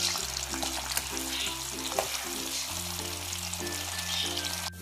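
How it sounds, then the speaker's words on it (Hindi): Chicken franks fry in hot oil, giving a steady close bubbling sizzle throughout with a few faint stirring clinks and no voices. "तो हमारा ऑयल गर्म हो चुका है, अब फ्रैंक्स को डालकर फ्राई करेंगे।"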